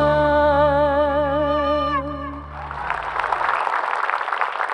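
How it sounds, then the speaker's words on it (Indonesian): A sustained sung note with music ends, and a moderate wave of audience applause follows at an Islamic religious gathering, the clapping steady and fairly close for the remaining seconds. "Tepuk tangan untuk Dila Erista."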